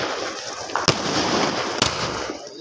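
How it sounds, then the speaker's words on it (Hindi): Sky shot fireworks bursting outdoors, with two sharp pops at close range over a steady crackling, hissing background of other fireworks going off. "स्काई शॉट लाओ"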